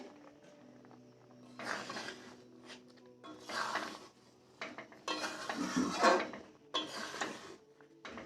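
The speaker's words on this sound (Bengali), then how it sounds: "আমি এটাই চারদিকটায় ছড়িয়ে ভালো করে নেড়ে নেব" Rice flour being stirred into simmering dudh puli pitha in a pan, with repeated bursts of metal spoon scraping and clinking against the pan between quieter pauses, close and moderately loud.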